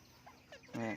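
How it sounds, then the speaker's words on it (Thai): A short burst of clucking from a newly feathered young decoy chicken standing on a perch, close and fairly loud, following a few faint chirpy peeps. "ฝึกหลักไก่เล็กครับ"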